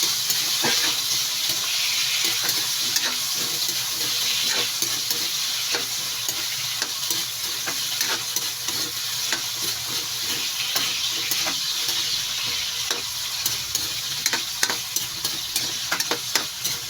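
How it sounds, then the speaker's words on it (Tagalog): Carrots and potatoes frying in a pan for chicken curry, a steady close sizzle with scattered crackles and stirring clatter throughout, no voices. "Prituhin muna natin."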